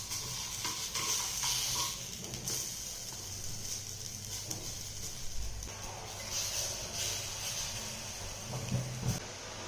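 Moong appe frying in an appe pan as the puffed dumplings are turned, giving soft steady sizzling with occasional light clinks and scrapes of a utensil against the metal pan, close and continuous without talk.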